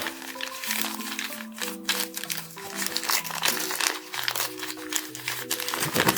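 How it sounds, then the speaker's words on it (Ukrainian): Parcel packaging crinkles and rustles continuously as a coin order is unpacked, with close crackling handling noise running over a steady tonal background. "Перейдемо до так званої розпаковки."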